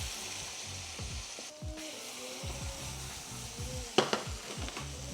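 Close sizzling and bubbling of minced garlic in a butter mixture, with a rhythmic spoon scraping against the pan and a sharp clink partway through.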